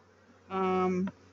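A single bee flies close by during an autumn hive packdown, giving a loud, steady buzz that swells in for about half a second and cuts off, with quiet background before and after.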